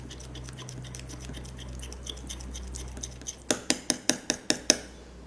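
Turmeric face mask ingredients being mixed into a paste, likely with a spoon in a small bowl: soft scraping early on, then a run of about eight sharp, evenly spaced clinks close by near the end, with no talking.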